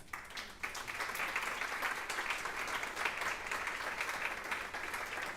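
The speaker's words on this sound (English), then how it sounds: "Make an applause." An audience applauds for Jordi Serrano Pons at a Planet Health Innovation event, a steady dense wash of many hands clapping that begins quietly and swells within the first second, then holds at an even level with no voices.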